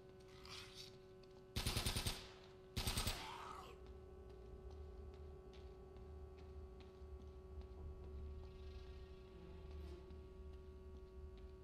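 An MP40 submachine gun fires two short, loud bursts in the Uncharted video game, standing out over a steady low electronic hum and faint ticking that carries on after the shots.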